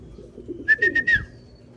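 A few homing pigeons, rarely let out and still untrained at recall, give a short run of about four soft, rounded coos close by, each swelling and fading in quick succession over a low background murmur.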